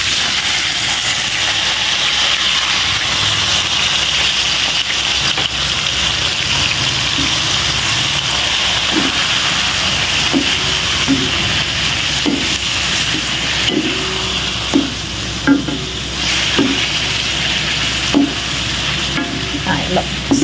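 Squid sizzles steadily in a frying pan with browned onions, garlic, ginger and chili, a loud continuous frying hiss with occasional stirring scrapes and clanks.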